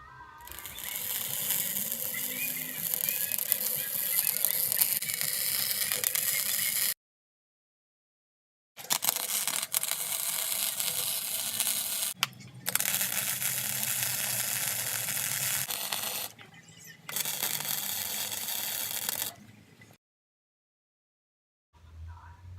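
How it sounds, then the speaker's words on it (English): Steel pieces of a fire pit cooker frame being welded produce loud, close, crackling sizzle in several long continuous bursts separated by short silent pauses. "I'm going to now weld everything up."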